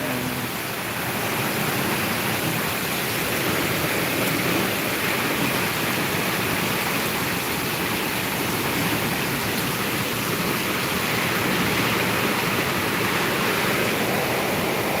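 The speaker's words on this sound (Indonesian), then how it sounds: "Ini hujan lebat banget sama angin kencang juga nah." Heavy rain lashes down with strong wind during a storm with flooding in Palembang, South Sumatra: a dense, steady roar of broadband noise that stays loud and constant from start to finish, with no voices.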